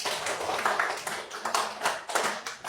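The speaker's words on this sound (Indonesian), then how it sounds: "Oke, tepuk tangan dong" A primary school class claps hands together in a classroom, a moderately quiet, uneven patter of small hands that rises and dips in loose bursts.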